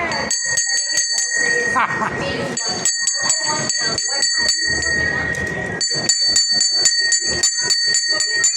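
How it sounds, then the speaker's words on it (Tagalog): A bell rung by a child at the Fairview Terraces mall rings in bright, sustained metallic tones that start, stop and resume, heard close by with people talking throughout. "Ring the bell"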